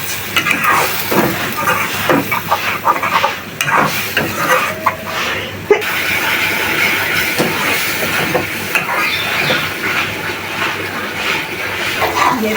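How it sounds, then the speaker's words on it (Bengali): Fish dopiaza masala of poa fish, green chilies, tomato, salt and chili powder sizzles in a pan with a splash of water, a close, uneven crackling sizzle with scraping stirs and clatters throughout. "সামান্য পানি দিব কষানোর জন্য"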